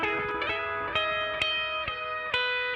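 A Telecaster electric guitar plays a clean, ringing chord-and-note phrase through an amp-simulator American Vintage B clean amp, with bright sustained tones and several picked attacks, alone with no talk.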